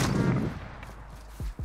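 Sniper rifle shots in a Modern Warfare Search and Destroy match, two sharp cracks near the end following a rumbling burst, fairly loud with no talk.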